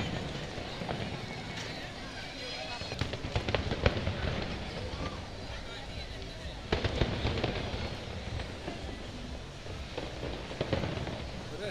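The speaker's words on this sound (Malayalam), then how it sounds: "നല്ല അടിപൊളി കളർഫുൾ വെടിക്കെട്ട് സ്റ്റാർട്ടായിട്ടുണ്ട്," Fireworks display at the Dubai Expo, with repeated bursts and crackling pops of varying loudness over steady crowd murmur and voices, heard from some distance through trees.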